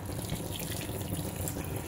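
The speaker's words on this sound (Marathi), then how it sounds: "चांगलं उकळलेलं गरम पाणी घालायचंय." Hot boiled water, three to four glasses, poured steadily into a pot of dal khichdi as it cooks, giving a continuous close splashing pour with no talk over it.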